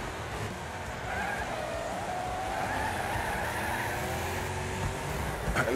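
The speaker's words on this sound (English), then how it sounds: "Sliding around and trying to avoid some crashes." Cars sliding and skidding in the Wreckfest racing video game, a NASCAR-style stock car race, with a steady engine drone under rising and falling tire squeals and a few knocks near the end.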